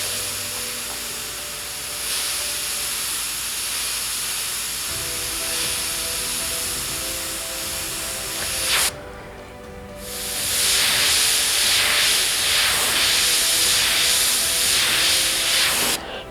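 A steady, close hiss of an airbrush spraying paint onto a Suzuki Hayabusa headlight, running continuously, pausing briefly, then returning louder and brighter with a slightly pulsing flow.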